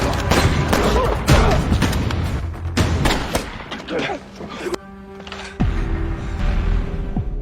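Gunfire during a film shootout, a dense run of loud sharp shots and booms fired in bursts, some overlapping, with a brief lull and a heavy thud before more shots, all close and forceful.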